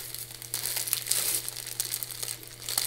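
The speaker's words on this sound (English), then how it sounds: "Sorry for the crinkling." Plastic packaging crinkles and rustles up close in irregular bursts while wax melts are unboxed, with no talking.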